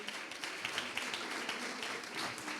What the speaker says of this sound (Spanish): Un fuerte aplauso por el trabajazo que están haciendo, por la fundación